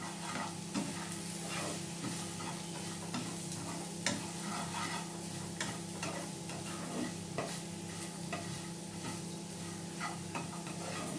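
Chillies sizzling steadily in a hot pan, a dense continuous crackle and hiss with occasional sharper pops and stirring clicks, close and unbroken throughout, with no talking.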